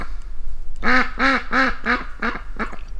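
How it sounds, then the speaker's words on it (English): A duck quacks six times in a quick, steady series, close and loud, with the calls growing slightly shorter toward the end. "You sure sound like a duck"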